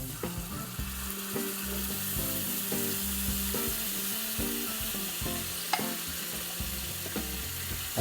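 Instant canned sardines frying in a pan as they are stirred, giving a dense ongoing sizzle with light utensil scrapes and bumps, close and even, with music playing underneath.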